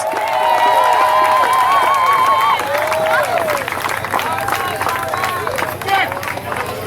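A crowd at an awards ceremony for a 10K run and 5K walk in Barbados applauds and cheers for a runner, a steady wash of clapping and whoops with a whistle and voices mixed in.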